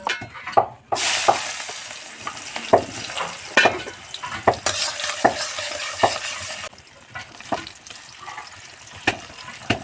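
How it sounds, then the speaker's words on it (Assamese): Mixed vegetable fry cooking in a wok over an open wood fire outdoors at a picnic, giving a steady loud sizzle broken by repeated scraping stirs of the spatula, close and without talk. "এতিয়া বনাই আছোঁ মিক্স ভাজি"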